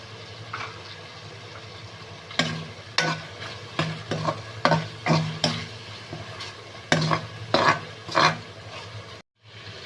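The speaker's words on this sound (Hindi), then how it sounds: "थोड़ी देर हम फ्राई करेंगे इसको ताकि हमारी चिकन जो है वो गल जाए।" Chicken frying in a pan with garlic and ginger paste, a steady sizzle broken by repeated scraping stirs of a utensil against the pan, close and fairly loud, with no one talking.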